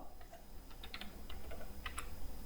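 Quiet clicking of a computer keyboard as a web link is typed, several short irregular bursts of keystrokes, faint and close, without speech.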